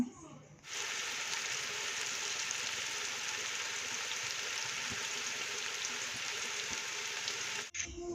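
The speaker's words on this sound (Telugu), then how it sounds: "సాల్ట్ వేస్తే మనకు ఆనియన్ ముక్కలు అనేవి త్వరగా ఫ్రై అవుతాయండి ఇక్కడైతే మంచిగా ఫ్రై చేసుకుందాము" Chopped onion pieces with salt frying in a pan, a steady hissing sizzle that starts abruptly and holds evenly before cutting off near the end, with a few faint stirring knocks.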